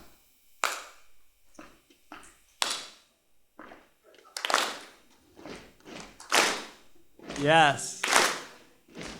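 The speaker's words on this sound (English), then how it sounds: "It's a combination of stomping and clapping." Slow stomping and hand clapping keep a steady beat in a live session, loud thuds and crisp claps alternating near the microphone, with brief spoken encouragement between beats.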